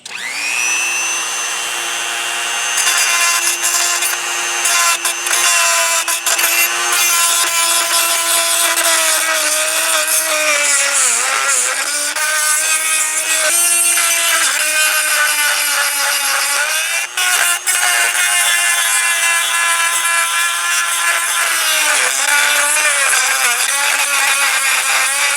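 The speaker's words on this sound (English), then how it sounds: "I'm going to use a Dremel tool to rough up these surfaces as much as possible" A Dremel rotary tool roughs up the surfaces of an improvised emergency battery connector, its whine loud and close and holding a steady pitch with small wavering dips as the bit bears down, running almost nonstop for around 25 seconds.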